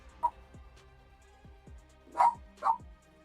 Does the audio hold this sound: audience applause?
no